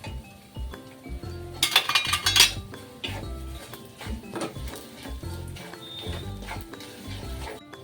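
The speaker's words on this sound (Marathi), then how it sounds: "आता आपला रवा भाजून झालेला आहे, तर त्यात थोडेसे ड्रायफ्रूट्स टाकून सुद्धा आपण परतून घेऊया" A spoon stirs semolina and dry fruits roasting in a pan for shira, giving irregular close metallic scrapes and clinks, louder in a brief burst early on.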